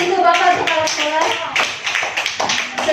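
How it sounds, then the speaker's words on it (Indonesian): Group applause at a school session for the principal, brisk rhythmic clapping from a gathering of staff, steady and close throughout with voices mixed in. "tepuk tangan untuk Bapak Kepala Sekolah"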